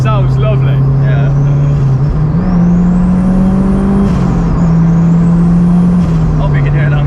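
A turbocharged Honda S2000 making 425 horsepower at 15 psi revs loudly up close, its deep engine drone rising and falling in pitch while a thin turbo whistle sweeps above it.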